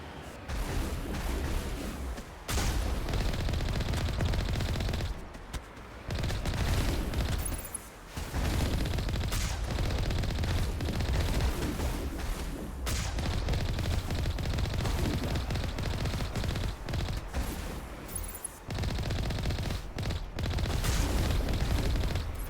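Rockets and explosions burst in a Mass Effect 1 firefight, with heavy booms and rattling gunfire filling the clip continuously, broken only by a few brief pauses between volleys.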